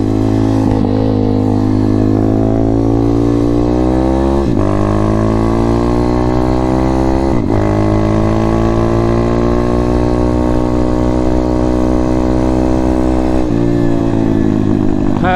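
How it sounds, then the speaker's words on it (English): A Chinese M2R RF160 road-legal pit bike engine runs loud and close throughout, rising and falling as the rider works through the gears with brief dips at each shift, no talking. "M2R Chinese pit bike, an RF160. Let's see how we get on."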